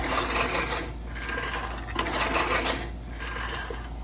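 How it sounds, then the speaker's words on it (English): A lawnmower runs steadily after its blade has been adjusted, a close, continuous engine drone with a rough, rasping texture that dips slightly at moments and carries on with no talking. "now you hear that beautiful sound of the lawnmower"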